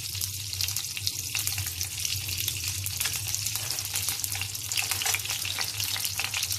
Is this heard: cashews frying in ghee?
yes